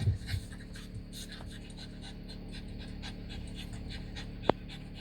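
A dog pants steadily in quick, rhythmic breaths close by, with a few soft bumps at the start and a sharp click near the end.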